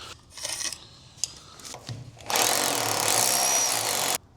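A few scraping, grinding bursts and a sharp click, then a harsh, loud whirring grind of a masonry drill bit boring into masonry that cuts off abruptly as the bit snaps.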